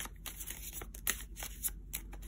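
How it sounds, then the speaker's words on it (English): A deck of tarot cards being shuffled, soft papery riffles and flicks repeating in irregular bursts, quiet and close, with no talking. "So let me continue shuffling this deck"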